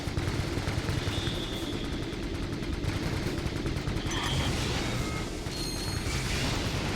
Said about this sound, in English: it looks like they're automatically shooting